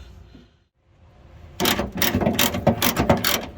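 A ratchet spanner loosens a bolt on the bull bar of a 1986 Ford Cortina P100 pickup, fast close-up clicking bursts of the pawl after a short quiet start, loud and with no talk over it.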